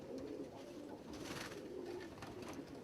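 A pigeon coos softly and continuously inside a loft, low and muffled under a constant background hiss, with no voices nearby.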